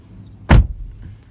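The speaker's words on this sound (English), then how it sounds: "shutting the door on the 4Runner" A single solid, heavy thud as the door of a 2018 Toyota 4Runner TRD Off-Road swings shut, close and loud, with a short low rumble trailing off into quiet.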